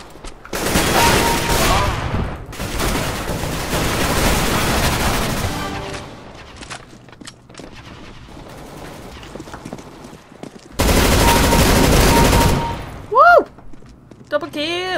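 Bursts of gunfire from a gun in CS:GO, with long dense volleys in the first seconds and again near the end, separated by quieter game sounds.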